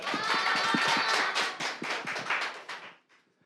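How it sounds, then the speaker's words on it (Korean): A room full of young people at a student rally applauds two quiz winners, dense overlapping clapping that holds steady, thins out and fades to quiet near the end. "퀴즈를 맞춰주신 두 분께 한번 큰 박수 보내볼까요?"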